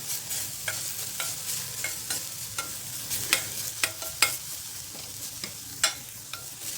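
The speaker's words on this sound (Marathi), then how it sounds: "डाळ अशी छान क्रिस्पी होईपर्यंत भाजून घ्यायची" Urad dal frying in oil with ginger-garlic paste, a low continuous sizzle broken by sharp, regular spoon-against-pan scrapes and clinks, close and distinct.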